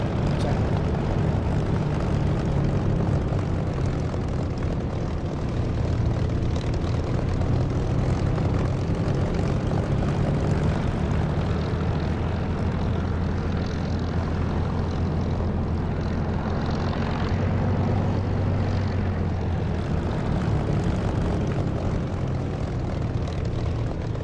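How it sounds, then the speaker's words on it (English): Aircraft engine in the DCS flight simulator, a loud, continuous droning roar with a steady low hum that holds without a break for the whole stretch, with slight shifts in tone partway through. "This is the Echo 19 engine sound."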